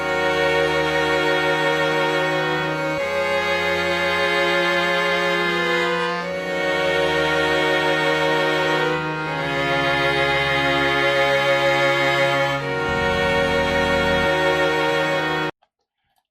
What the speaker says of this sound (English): I'm just going to go to a splice and find a string one shot.